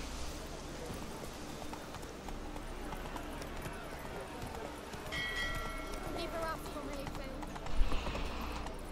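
Horse hooves clopping in The Witcher 3 as the player mounts and rides, a steady soft clip-clop under continuous gameplay sound and someone speaking over it.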